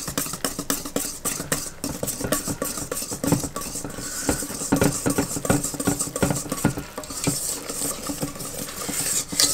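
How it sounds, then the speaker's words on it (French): A utensil mixes cake batter in a bowl, a rapid run of close, loud wet slaps and scraping knocks in a busy, uneven rhythm. "On mélange."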